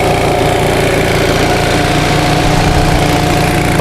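A 1945 Onan generator engine runs steadily at close range, a constant loud mechanical drone with even low throbbing and no pauses or voices.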